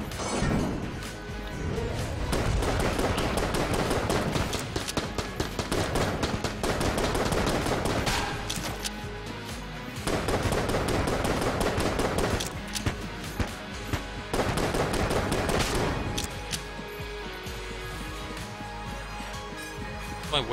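Rapid gunfire from the Phoenix starting pistol in the video game Enter the Gungeon 2, dense bursts of sharp shots over game music, pausing and resuming in long stretches.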